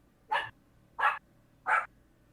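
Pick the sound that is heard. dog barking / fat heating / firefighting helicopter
dog barking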